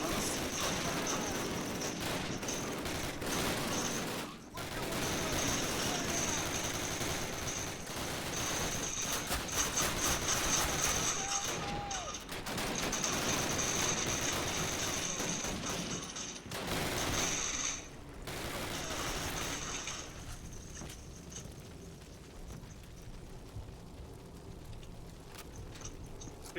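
Steady, dense gunfire from the 2003 video game Call of Duty 1, a mix of rapid machine-gun bursts and rifle shots outdoors on a battlefield, continuous and fairly loud for most of the stretch before thinning out near the end.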